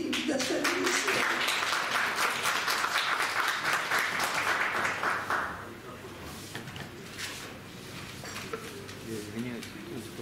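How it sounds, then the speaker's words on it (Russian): Audience applause at a book event in a Moscow bookshop, a dense broadband patter filling the first five seconds and then dropping away to quieter room noise with some talk. "Ну, спасибо, похлопаем ей"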